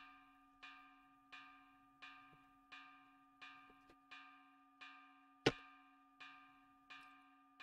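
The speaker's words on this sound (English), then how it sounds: "It's the warning bell." A warning bell in the video game Ys IX: Monstrum Nox rings in a steady, evenly spaced series of about a dozen clear metallic strikes with ringing decays, plus one sharper clang partway through, heard alone.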